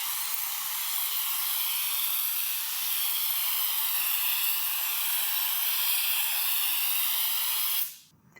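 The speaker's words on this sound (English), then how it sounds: "start spraying in a pattern from right to left, and he's going to keep the tip of that gun about 8 to 12 inches from the surface" A spray gun applies CAV-GRIP III adhesive/primer onto an EPDM roofing membrane from about 8 to 12 inches away, giving a steady, loud, airy hiss that runs unbroken for several seconds, then cuts off sharply.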